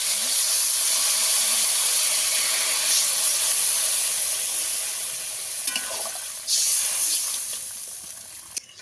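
Water poured into a pan of sizzling spices being sautéed for a fish curry with green banana, giving a loud steady hiss and steam that fades toward the end with a few sharp bursts.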